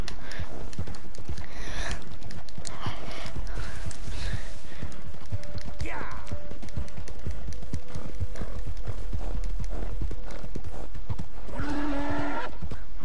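Horse hooves clip-clopping in Red Dead Redemption 2, a steady close rhythm of hoofbeats over outdoor ambience, with a brief whinny near the end.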